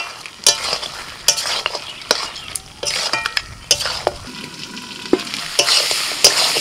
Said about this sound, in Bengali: আর একটু নাড়াচাড়া করে দিচ্ছি। এইভাবে মটনটাকে কষিয়ে নেব।